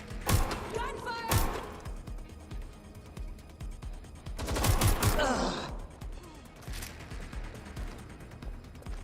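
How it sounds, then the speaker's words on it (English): Bursts of rapid gunfire crackle amid mechanical clanks and creaks in the video game Watch Dogs: Legion, with sporadic shots between louder volleys in a busy game soundscape. "Gunfire!"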